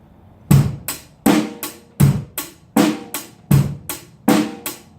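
A drum kit plays a straight 4/4 rock beat with kick, snare and cymbals, adding a second quick bass drum hit right after beat one; the hits are close, loud and evenly repeated, with no talk.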